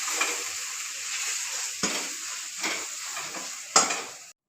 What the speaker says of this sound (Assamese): এনেকৈ 5 মিনিটমান মছলাটো সিজিব দিব লাগিব।